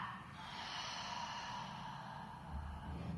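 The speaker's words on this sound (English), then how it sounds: "Deep breath in. Nice long breath out." A long, deep exhale through an open mouth rises and fades over about three seconds, a steady breathy rush heard close and alone with no talking.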